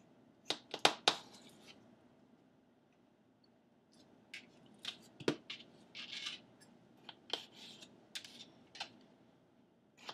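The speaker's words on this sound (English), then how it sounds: "I'm going to cut it into wedges." A knife slicing a potato into wedges on a kitchen cutting board, giving sharp, close taps and chops in scattered clusters with quiet gaps between them.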